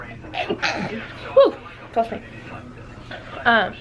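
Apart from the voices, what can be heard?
sneeze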